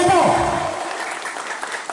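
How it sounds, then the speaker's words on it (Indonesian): Applause at a village leadership farewell gathering, a brief burst of clapping that fades quickly within about a second, with voices mixed in at the start. "Tepuk tangan untuk Bapak Herianto."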